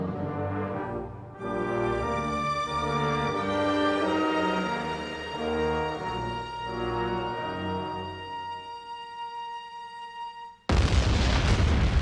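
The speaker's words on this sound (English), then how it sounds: "Is there one episode in this show that doesn't have an explosion?" An explosion from the Batman: The Animated Series episode Appointment in Crime Alley arrives after a stretch of orchestral score, as a sudden, loud, roaring blast that fills the final second and a half.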